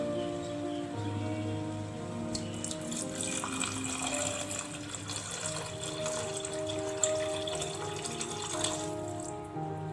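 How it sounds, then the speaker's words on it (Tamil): Water runs steadily into a pan of cauliflower gravy for several seconds, a continuous splashing pour over a low background hum. "இதில் நம்ம தேவையான அளவு தண்ணி சேர்த்துக்கலாம்."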